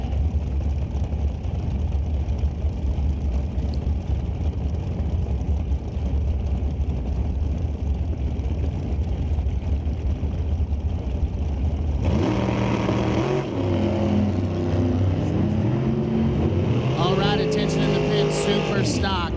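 Drag racing cars at an NHRA sportsman event, including a 2024 Diamond Dragster and a hot rod, idle with a low rumble before engines rev sharply in rising bursts, loud and close, with an announcer talking over them.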